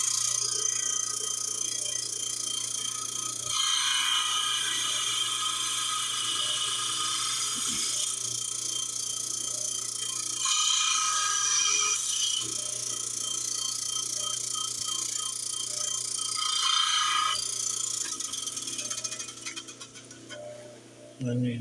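A grinder or cutter runs steadily while material is cut during construction of an adobe house, giving a continuous high whine that swells and eases over several passes.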